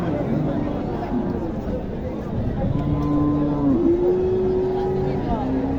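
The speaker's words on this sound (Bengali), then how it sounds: "এখানে কয়েক পিস গরু রয়েছে এক লটে" A lot of bullocks at a cattle market moo in long, drawn-out low calls against a steady crowd murmur. Nearby voices talk over the scene throughout.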